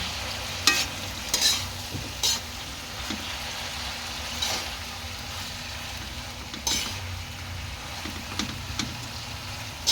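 Malabar spinach (alugbati) being stir-fried in a pan for ginisang monggo, with a steady low sizzle broken by a few sharp scraping stirs of a utensil against the pan, close and moderately loud, no talking.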